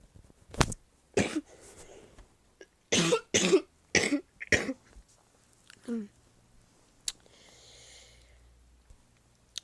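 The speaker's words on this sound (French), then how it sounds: "j'ai vraiment mal à la gorge et que je tousse" Several sharp, loud coughs from someone with a sore throat, in quick bursts, some clustered in pairs, followed by quieter rustling and a short breathy sound near the end.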